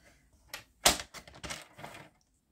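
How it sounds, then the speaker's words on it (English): Paper trimmer cutting card stock: a quiet, close series of short, sharp clacking strokes spread over about two seconds, with silence on either side. "we're going to trim this down to 5 1/2"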